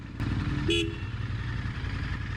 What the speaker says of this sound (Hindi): horn is also pretty loud